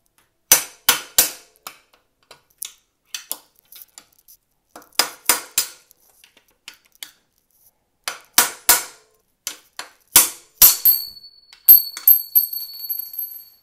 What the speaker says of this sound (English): I'm gonna try with a socket and an extension and just give it some gentle coaxing with a hammer